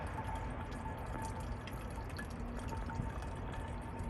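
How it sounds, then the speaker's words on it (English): Water is squeezed out of a CNOC Vesica collapsible water bottle in a steady, continuous trickle that stays even and close throughout. "the flow is starting to diminish on me as I squeeze the water bottle"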